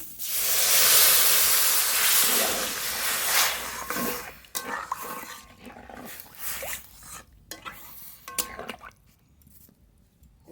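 Water poured into a hot pan of lightly fried red lentils: a loud burst of hissing sizzle that slowly fades into softer crackling and bubbling, close by, with no talking.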